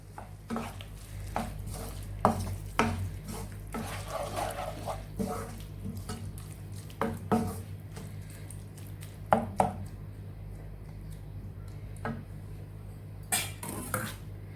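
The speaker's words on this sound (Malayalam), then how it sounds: "അതിലേക്ക് നമുക്ക് നല്ല തിളച്ച വെള്ളം ഒഴിച്ചു കൊടുക്കാം." Boiling water is poured into a pan of pickle and stirred, with repeated sharp clinks of a utensil against the pan over soft liquid and stirring noise, close up.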